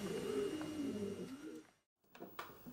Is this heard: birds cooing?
yes